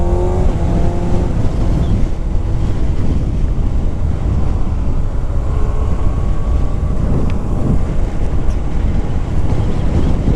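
A 2025 Kawasaki Ninja ZX-6R 636cc supersport motorcycle ridden at speed, engine drone buried under heavy, steady wind rush across the microphone, with a brief rising engine tone near the start.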